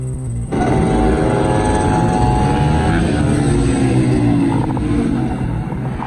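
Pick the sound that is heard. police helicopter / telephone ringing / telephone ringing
police helicopter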